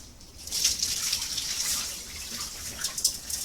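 Water runs steadily over rice in a wire strainer, a continuous bright splashing hiss that swells and flickers for a few seconds, close by with no talking.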